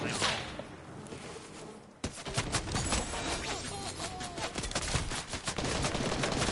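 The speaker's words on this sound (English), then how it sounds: "I'm getting shot heavily" Gunfire in Fortnite crackles in dense rapid bursts, loud and continuous, with a sharper volley after a brief lull, as a player takes heavy fire, with no talking.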